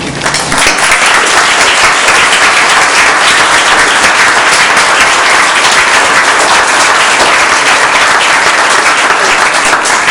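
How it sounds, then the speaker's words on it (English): Loud, sustained applause from a large audience at a Board of Education meeting, steady clapping filling the whole stretch without a break. "will you please stand so we can also give you a round of applause?"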